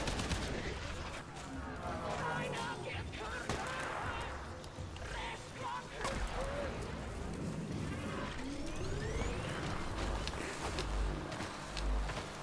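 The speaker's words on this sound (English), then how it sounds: "Something's shooting at me." Dense, continuous gunfire in the Warframe video game, with enemies shooting at the player. Rapid overlapping bursts run steadily for the whole stretch, mixed with game effects and a busy, loud background.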